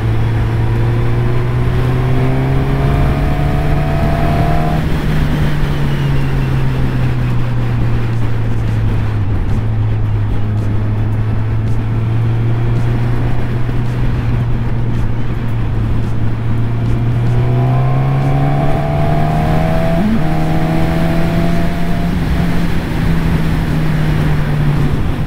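A Suzuki Katana motorcycle rides along a street with a steady engine drone that rises and falls in pitch as it accelerates and eases off, under constant wind rush.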